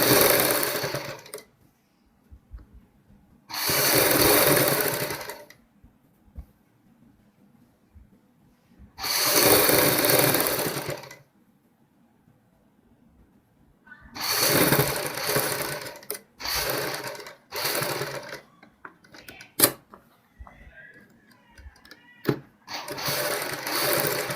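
A sewing machine stitching the double collar neck of a kurti, its whirring running in several loud bursts a few seconds long with quiet pauses between, close by and with no talking.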